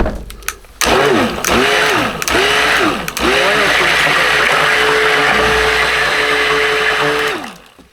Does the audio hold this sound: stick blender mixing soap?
yes